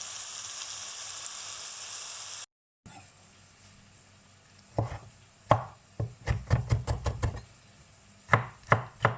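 Onions frying in oil in a pan for a vegetable noodle dish: a steady hiss of sizzling at first, then a run of sharp, close chopping knocks in quick clusters over a quieter background.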